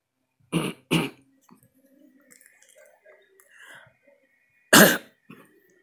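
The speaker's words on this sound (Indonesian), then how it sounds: "Maaf batuk teman-teman." Two sharp coughs close together, then quiet throat noises and mumbling, followed by one more loud cough.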